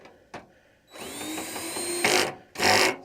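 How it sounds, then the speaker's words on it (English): A power drill whirs as it drives a screw into a VegeGa metal raised garden bed, with a short tap, then a steady whine for about a second, followed by two louder full-power bursts. "Just screw it in just like that."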